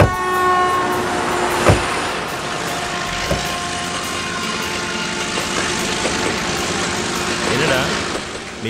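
A train rolls past on a railway track near a stopped group, with a steady rumble, rhythmic wheel clicks and short horn blasts, loud and close throughout.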